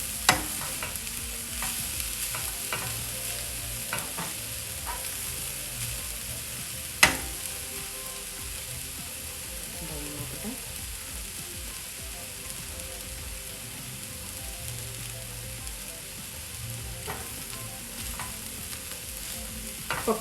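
Beans stir-fry in a pan for a Kerala-style thoran. A soft continuous sizzle runs throughout, with occasional scrapes and taps of the spoon against the pan.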